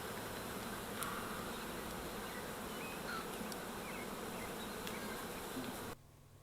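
A swarm of honey bees buzzes in a dense, steady drone, close and continuous, with a few brief sharp sounds before it suddenly drops away near the end.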